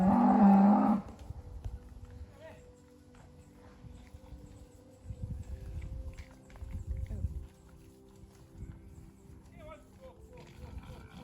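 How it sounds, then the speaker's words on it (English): Cows being herded along by a car in the countryside near Offa's Dyke, with moos, shuffling hooves and a low engine rumble, while people talk over the scene. "Oh, that's a way to herd cows, isn't it, with a car?"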